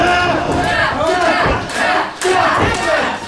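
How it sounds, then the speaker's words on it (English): Wrestling arena crowd roaring and yelling during a Boston Crab hold, a dense, sustained wall of shouting voices with a brief dip midway before surging again, some individual cries standing out. "And the crowd is going wild."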